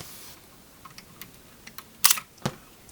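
A Voigtlander Vito C camera is wound on by hand, giving a few faint soft clicks and then a sharper mechanical ratchet snap near the end, close up in a quiet room.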